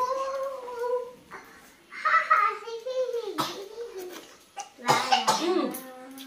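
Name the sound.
child coughing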